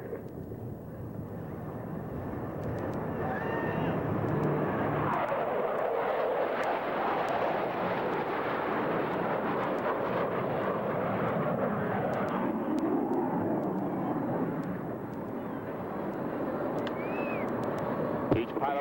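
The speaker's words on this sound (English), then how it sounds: "each pilot will perform an individual brake turn and exit the flight line in a separate direction" Blue Angels jets perform individual brake turns at the 1987 Top Gun airshow: a loud, broad jet roar swells and lingers for over ten seconds before easing off, with an announcer speaking over it.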